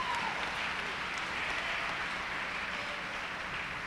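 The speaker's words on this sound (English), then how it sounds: "That deserves a clap." Banquet audience applauding, a dense steady wash of clapping that holds at an even level for a few seconds without any voices on top.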